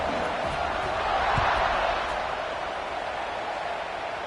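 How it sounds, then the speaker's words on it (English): Football stadium crowd buzzing after a score, a dense, steady roar of many voices filling the space, with a faint thump partway through and no distinct speech. "this crowd is buzzing after that last score"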